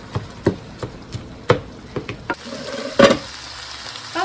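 Ground beef fries in a pan, with crackling sizzle and intermittent scraping, tapping strokes of a utensil stirring the meat, and a louder clatter near the end.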